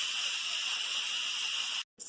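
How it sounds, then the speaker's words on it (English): An Instant Pot pressure cooker, packed full of white chicken chili, releases steam in a steady, loud hiss that runs unbroken for nearly two seconds, then cuts off abruptly before starting again. "because this is such a full pot, it takes several minutes for the steam to get out of there"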